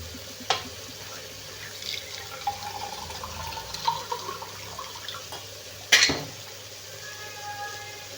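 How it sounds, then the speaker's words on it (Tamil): Water is poured into a cooking pot on a home kitchen stove, a soft trickling splash with a sharper burst partway through, over faint background hum. "இப்போ தண்ணி எல்லாம் ஊற்ற போகிறது"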